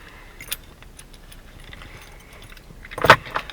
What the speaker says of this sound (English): He's got so many fucking sets of keys.